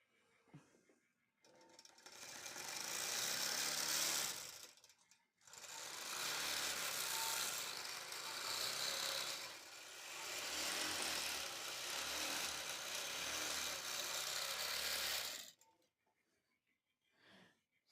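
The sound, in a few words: longarm quilting machine sewing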